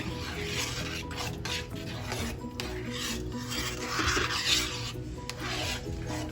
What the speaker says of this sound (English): I'm sorry for all the scraping, but like I said, I got that honey at the bottom of my skillet